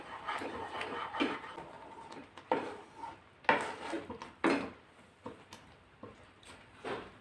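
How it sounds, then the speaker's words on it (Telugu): A spoon stirs food colour into a Karachi halwa mixture in a pan, giving a string of faint scraping and clinking knocks at an uneven, stirring rhythm, with no speech. "ఈ ఫుడ్ కలర్ని ఇప్పుడు బాగా మిక్స్ చేసేసుకోండి."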